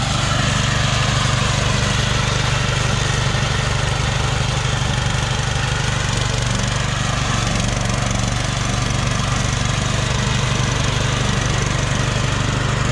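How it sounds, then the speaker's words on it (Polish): A riding lawn mower runs steadily up close, its engine droning loud and constant as it cuts grass, with no voices. "Nie trzeba kosiarki pchać. To się siedzi, a maszyna sama robi."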